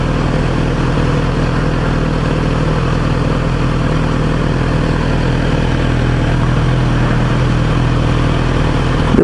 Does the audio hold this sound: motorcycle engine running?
yes